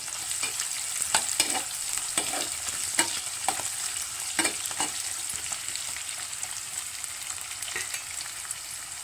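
Sliced onions are stirred and fried in a pan for egg curry, giving a steady close sizzle broken by repeated scraping strokes of a spoon, with no voices.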